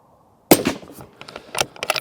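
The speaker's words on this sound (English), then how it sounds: "And last shot." One loud, close rifle shot from a Bergara Crest Carbon with a carbon fibre wrapped barrel, followed by a ringing echo and clattering, jangling handling noises.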